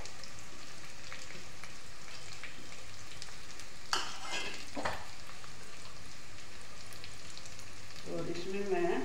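Onions frying in a pan give a steady, soft sizzle throughout, with a couple of stirring scrapes partway through and again near the end.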